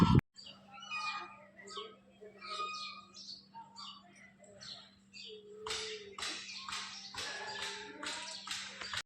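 Ducks at a village temple in Madhda give soft, scattered quacks and clucks beneath people talking, faint against a low steady hum.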